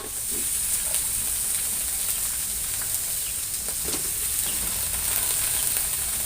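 Sliced gourd added to cooked egg in a hot pan makes a loud, steady frying sizzle and hiss with occasional stirring scrapes, close by and without talk.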